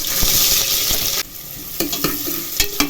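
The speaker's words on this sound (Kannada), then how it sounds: "ಈರುಳ್ಳಿ ಬಂದು ಗೋಲ್ಡನ್ ಬ್ರೌನ್ ಬರಬೇಕಾದ್ರೂ ಚೆನ್ನಾಗಿ ಫ್ರೈ ಮಾಡ್ಕೊಳ್ಳಿ" Onions frying in a pan with curry leaves, a loud close sizzle that drops abruptly after about a second, followed by quieter frying and several sharp stirring scrapes.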